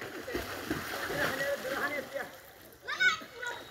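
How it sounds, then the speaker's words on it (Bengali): People swimming together in a large pond of about an acre churn the water with soft, irregular splashes, with a louder splash near the end, while voices talk close by over the water. "একসাথে সাঁতার কাটছে।"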